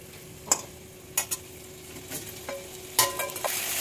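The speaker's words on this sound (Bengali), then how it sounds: "আলু দিয়ে আর কাঁকরোল দিয়ে মশলাটা সুন্দর করে কষিয়ে নিতে হবে" Spice paste with potato and kakrol (spine gourd) sautéing in a pan: a constant close sizzle broken by several sharp spatula scrapes and clinks as the mixture is stirred, with no voices.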